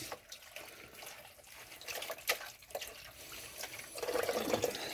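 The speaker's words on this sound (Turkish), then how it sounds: "Evet sonra bu leğenimizi balığı buna koyacağımız için leğeni bir yıkayıyoruz." Running water splashes into a basin as it is rinsed out in a village kitchen before fish are placed in it, a soft close wash of flowing water and trickling that grows fuller toward the end.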